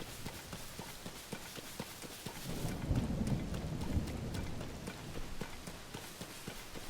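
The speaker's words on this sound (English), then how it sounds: "We spawned in the middle of a lightning storm." Rain and rolling thunder of a lightning storm in Zelda: Tears of the Kingdom, a steady patter of rain with a low thunder rumble swelling in the middle of the clip, with no talk over it.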